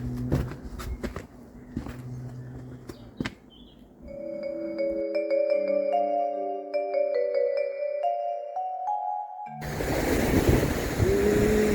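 Black Sea waves washing onto the shore, a steady broadband surf rushing in over the last couple of seconds after a stretch of other clattering and tonal sounds.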